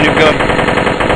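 A continuous rapid burst of AK automatic gunfire in a video game, loud and close, with a dense steady rhythm of shots and little else audible.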